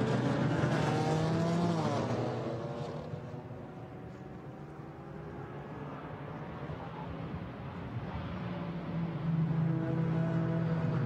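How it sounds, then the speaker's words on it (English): GT4 race cars, including a Toyota, a BMW and a Chevrolet, race at the Nürburgring, engines roaring close by in a continuous wail that dips in the middle and swells again as cars pass. "Gael Castelli's Toyota ahead of the BMW in the hands of Gabriele Piana, and then Duncan Heisman right up behind him in the Chevrolet"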